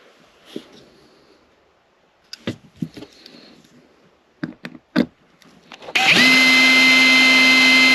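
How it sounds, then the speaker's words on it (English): After a few scattered clicks and handling taps, a small power drill starts up and whines steadily as it drills out a rivet on a diecast model car, loud and close. "a lot of times it's better just to drill straight down"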